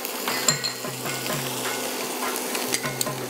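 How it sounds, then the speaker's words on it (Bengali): Mashed ginger sizzling in a hot pan, a steady low hiss of frying with a spatula stirring and scraping against the metal now and then, close and moderately quiet. "একটু আদাটাকে একটু ভেজে নেব।"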